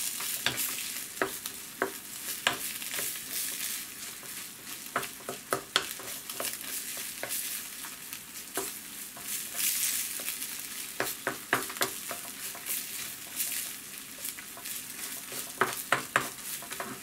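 Sculpin sizzling and frying in a pan as moisture cooks off, with constant crackling broken by repeated scraping stirs, close and steady throughout, no voices.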